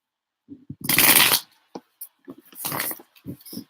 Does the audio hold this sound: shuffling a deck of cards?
yes